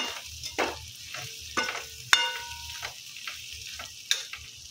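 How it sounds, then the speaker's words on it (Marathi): Vegetables for sambar, with sambar masala added, sizzle in a pan while being stirred, giving a soft steady frying hiss with several quiet scraping strokes close by. "ठीक आहे तर आपण फिरवून घेऊया."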